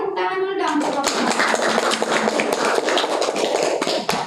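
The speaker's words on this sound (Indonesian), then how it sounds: "Yang lain tepuk tangan dulu dong untuk kelompok" Classroom applause for a student group during a microteaching lesson: dense, steady clapping from many hands fills the room right after a voice speaks, continuing loud and even to the end.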